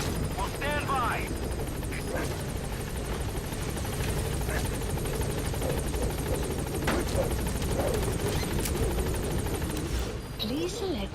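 Pequod helicopter from Metal Gear Solid V: The Phantom Pain hovering at a landing zone, a steady loud rotor drone throughout with faint gunfire and a radio voice over it.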